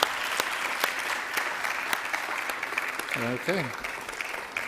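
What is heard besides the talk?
applause for students at white coat ceremony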